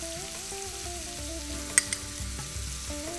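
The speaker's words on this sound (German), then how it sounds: "gut umrühren und etwa 4 Minuten braten lassen" Onions seasoned with pepper and salt fry and are stirred in a pan for spaghetti bolognese. A steady soft sizzle sits under background music, with a couple of brief clicks near the middle.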